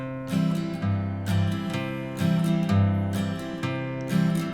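Acoustic guitar played fingerstyle with alternating bass notes under strummed chords, a clear, close, steady rhythmic pattern of bright plucked tones over changing low notes, with no voices.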